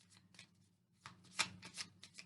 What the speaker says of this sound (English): just shuffling the cards, and we're picking one for Taurus men